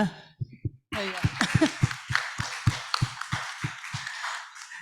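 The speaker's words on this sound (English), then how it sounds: "a big applause for the rest of the participants who stayed along" A thin plenary-session audience at a small-scale fisheries conference claps after a brief pause, the applause running on with evenly spaced low thumps beneath it.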